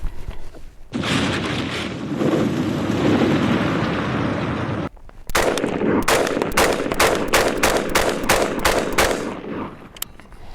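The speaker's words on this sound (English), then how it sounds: "I'm just going to shoot into the backstop, into the mountainside right now." A Bear Creek Arsenal AR-15 upper fires outdoors into a mountainside backstop. After a sustained loud roar, about ten close, sharp shots ring out in a quick, uneven series, each echoing off the hills.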